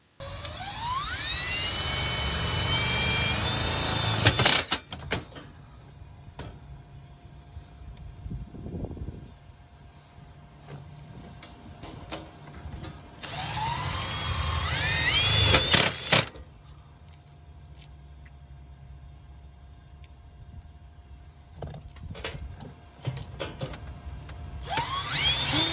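A drill drives hex head tech screws into sheet metal during rodent exclusion work: two long whirring bursts rising in pitch as the motor spins up, a third short burst at the end, and quieter gaps between them.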